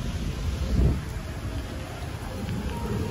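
Steady rain pours at SeaWorld, a dense continuous wash with a brief low rumble near the start and no talking.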